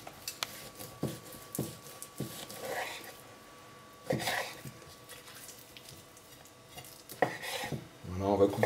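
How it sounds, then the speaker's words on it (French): Beef being cut into pieces with a knife on a board for a mafé stew, giving irregular close knocks and scraping cuts, some louder bursts, over quiet kitchen background with faint voice sounds. "on va couper des morceaux pas trop gros quand même"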